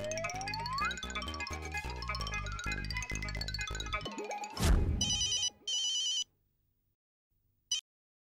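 After a burst of jumbled electronic tones and a boing, a phone ringtone trills in two short rings, then falls silent.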